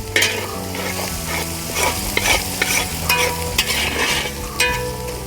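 Chicken being stirred in a hot pan for Kerala-style chicken perattu, with a spoon scraping repeatedly over a steady sizzle and a low background tone, at close range.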